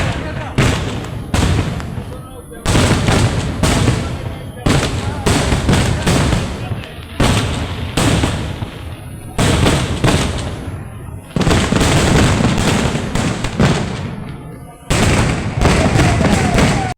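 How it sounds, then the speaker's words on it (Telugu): Fireworks and firecrackers burst again and again at a Navy Day celebration in Vizag, loud close explosions in rapid clusters with short pauses between them, and voices from the crowd mixed in. "బాంబులు అయితే పేల్చడం స్టార్ట్ చేశారు"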